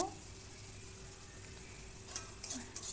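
Whole spices temper in leftover oil from frying pomfret, a soft, low hiss of sizzling that runs steadily, with a few light crackles and clinks near the end.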